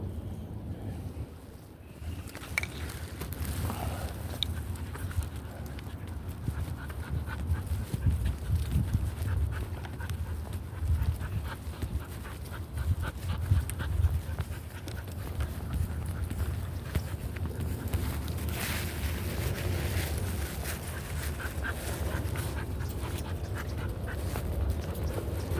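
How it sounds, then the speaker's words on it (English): A dog pants steadily close by in a park while wind rumbles across the microphone, with faint shuffling movement throughout. "Yeah, it's that guy's dog."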